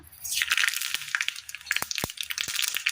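Mustard seeds crackle and pop in hot oil, a rapid irregular series of sharp snapping bursts over a sizzling hiss.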